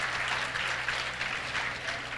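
Audience applause at a lecture event in Latur, a dense, steady wash of many hands clapping at once, continuous and even for a couple of seconds with no voices standing out.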